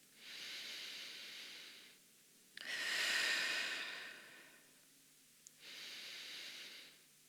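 Slow, audible breaths held in a yoga runner's lunge: a long exhale, a deeper, louder inhale, then another exhale, each a soft close-miked airy hiss separated by brief pauses, with no speech.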